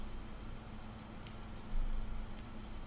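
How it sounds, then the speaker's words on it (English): A bus engine in the game Everlasting Summer rumbles low and steady as the bus pulls over, swelling slightly partway through amid faint background hiss. "The sound of an engine brought me back to reality. A bus pulled over."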